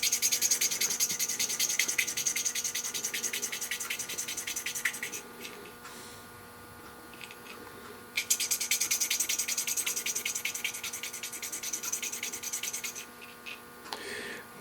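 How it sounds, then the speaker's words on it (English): Sharpening stone rubbed over the burred edges of a metal gear, giving close, quiet bursts of rapid back-and-forth scraping strokes, with a pause in the middle before the scraping resumes, under a faint steady machine-shop hum. "I'm going to take a stone here and just kind of get the burrs off of it."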